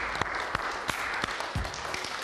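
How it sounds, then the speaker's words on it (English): Crowd applause welcoming the Wales women's rugby team before their Six Nations match against Ireland, a steady wash of clapping with a few sharper claps standing out, fairly distant. "give them all a big round of applause for me and welcome them in"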